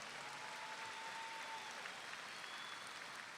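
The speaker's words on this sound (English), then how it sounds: "Let's give him a round of applause." Faint, distant applause from the audience at a high school graduation ceremony, a steady even patter of many hands with no voices on top.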